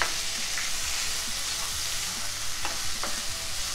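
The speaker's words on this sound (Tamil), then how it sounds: "நம்ம இப்போ வந்து எண்ணெய் சேர்த்து இதை எல்லாத்தையும் வதக்கியிருக்கோம்" Onions and tomatoes sautéing in oil for kadai mushroom, a dense steady sizzle with occasional spatula scrapes and light knocks throughout.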